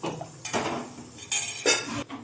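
Metal cookware clatters and clinks twice, a pot set down on a stove with a scrape and knock, close and fairly loud, no voices.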